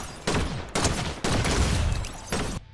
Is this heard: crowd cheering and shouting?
no